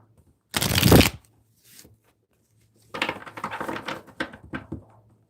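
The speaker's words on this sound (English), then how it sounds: "Let's do one more shuffle" Tarot cards are shuffled in two bursts, a short loud riffle followed after a pause by a longer run of rapid, uneven flicks and taps, close and clear with no talking.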